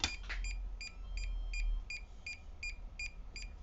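DJI Mini 2 drone emitting a series of about ten short, evenly spaced electronic beeps, clear and close over a low background hum, with no talking.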